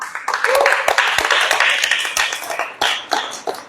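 Scattered claps from a church gathering, a loose burst of several hands that tapers into a few distinct, separate slaps, with voices faintly underneath.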